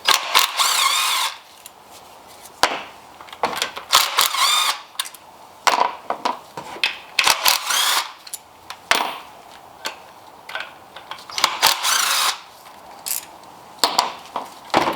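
An impact wrench with a 10mm socket zips out coil pack bolts on an Acura ILX, a series of short, sharp whirring bursts separated by brief pauses, close and fairly loud.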